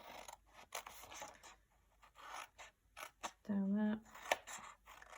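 Scissors snip through card while a gift card box base is being made, giving scraping cuts and a brief buzzing rasp, heard under ongoing talk.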